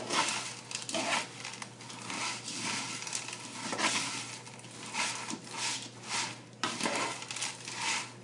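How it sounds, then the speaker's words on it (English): A spoon scrapes and clacks against a bowl while stirring noodles coated in melted butterscotch candy, a series of irregular scraping strokes and soft knocks, close and moderately quiet. "you just mix them together until all the noodles are coated with the butterscotch candy"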